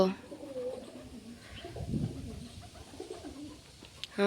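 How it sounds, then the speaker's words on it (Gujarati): Wild pigeons coo softly from their nest, low repeated throaty calls at close range over a quiet background. "જો કેટલા બધા છે જંગલી કબૂતર"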